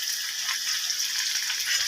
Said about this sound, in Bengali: পেঁয়াজ দিয়ে কড়াইয়ে পেঁয়াজ দিলাম। পেঁয়াজটা একটু ভাজা ভাজা হলে পরে